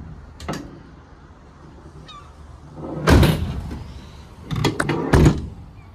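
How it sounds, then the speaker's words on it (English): Sliding side loading door on a 2016 Ford Transit Custom 290 2.0 TDCi L1 H2 van: a faint knock early, then two loud rumbling slides and thuds about two seconds apart, close by. "Side loading door is standard."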